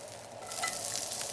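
Onions hitting a hot Lodge cast iron skillet made in America, a close steady hiss of frying that swells louder midway as they are stirred, with no voices.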